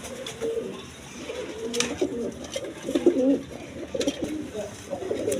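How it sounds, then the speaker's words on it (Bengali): Satin pigeons coo steadily and close by with low, rolling calls that repeat in overlapping phrases against a faint background hum. "এইখানে দুইটা মাদি কবুতর আছে"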